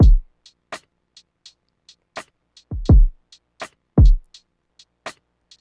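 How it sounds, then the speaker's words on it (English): A sparse lofi drum beat with deep kicks, sharp snare hits and light, steady hi-hat ticks, played alone at a moderate tempo. "We got the kick, we got the snare,"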